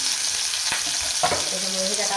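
Onion and tomato sauté in a pan with a steady close sizzle, broken by a couple of stirring scrapes.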